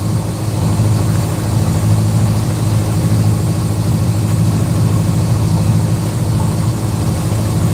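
A sailboat's inboard motor, throttled back to about 1050 RPM while motoring toward Lombok, Indonesia, rumbles in a low, even, continuous drone up close with no other sounds.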